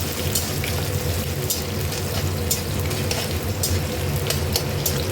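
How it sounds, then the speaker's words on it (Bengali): Chopped onion frying with cumin seeds and bay leaf in a pan for a crab curry: a steady, close, even sizzle with soft stirring scrapes throughout, no talking. "একটু জিরে ফোড়ন দিলাম একটা ছোট্ট পেঁয়াজ কুচিয়ে দিলাম পেঁয়াজটা একটু ভালো করে আমি"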